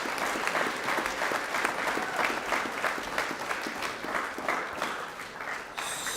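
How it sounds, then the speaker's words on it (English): Audience at a school co-curricular prize giving applauding roller skaters, a sustained round of dense clapping from a crowd in a hall, steady and fairly loud for the whole stretch. "Round of applause for our roller skaters"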